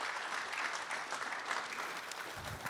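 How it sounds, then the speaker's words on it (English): A room at a town council public forum gives the volunteers a round of applause, a sustained crackle of many hands clapping at moderate volume, steady and dense, easing slightly toward the end. "I think we should give them a round of applause for the fact that they were here doing this today."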